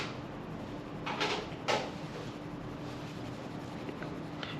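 A soft 2B graphite pencil shading on paper, producing a faint, steady scratchy rasp with a couple of slightly stronger strokes standing out near the start.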